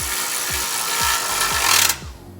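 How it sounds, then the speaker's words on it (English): An electric ratchet fitted with a 13mm socket driving a rock slider bolt on a third-generation Tacoma, giving a loud, continuous whirring grind with regular clicking pulses before it cuts off abruptly near the end. "So I'm using a 13mm on my electric ratchet"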